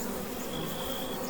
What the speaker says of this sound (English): So now I have bees in the grass.